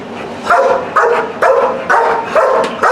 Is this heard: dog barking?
yes